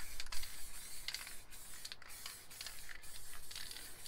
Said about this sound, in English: So spray around the lid stencils lightly.